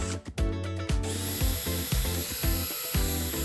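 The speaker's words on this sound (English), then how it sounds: "I'll also drill the pilot holes through the back." A power drill whirs steadily through a wooden kitchen cabinet, drilling pilot holes, its motor pitch dipping and surging in repeated pulses as it bites in, loud and close.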